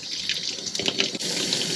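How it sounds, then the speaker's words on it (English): Hot water runs steadily from a sink faucet in the kitchen galley of a Ram Promaster van conversion, a close, continuous splashing hiss with no one speaking. "So we have water. This is hot water."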